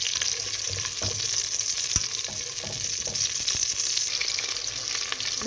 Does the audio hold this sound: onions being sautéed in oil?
yes